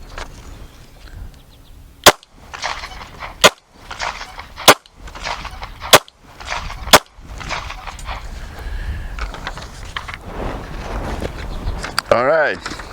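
Five loud, sharp pistol shots ring out during a slow-fire shooting drill, spaced about a second or more apart, with low background noise between the shots and a brief high sound near the end.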